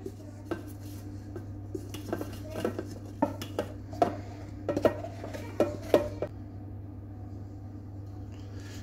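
Dough mixture for Tunisian fricassé bread scraped and tipped into a metal mixer bowl, a run of close clinks and knocks of utensil on bowl over a steady low hum, then quieter.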